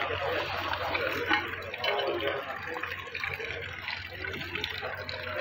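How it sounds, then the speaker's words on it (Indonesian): Water poured to soak ceramic floor tiles before laying, a steady wash of splashing and trickling liquid running throughout at close range, with some voices in the background. "Untuk pasang tiles, kena siram dulu."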